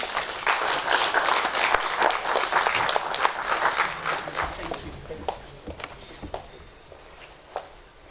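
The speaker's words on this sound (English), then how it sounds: "Let's clap hands for them" Audience applause at a university research week dialogue session: dense clapping through the first few seconds, thinning into scattered claps toward the end.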